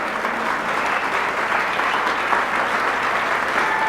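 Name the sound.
audience applause at radio hall of fame ceremony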